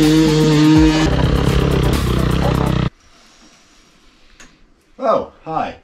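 A dirt bike engine on a hard enduro training track rumbles loud and close for about three seconds, then cuts off abruptly, leaving quiet outdoor background and a couple of short voiced sounds near the end.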